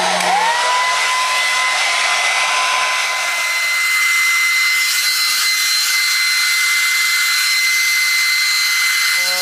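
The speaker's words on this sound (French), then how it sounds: "J'ai bientôt fini le séchage au séchoir." A hair dryer blows continuously on relaxed hair, a loud, close, steady whooshing hiss with a high whine that shifts slightly in pitch as it moves, with no talking.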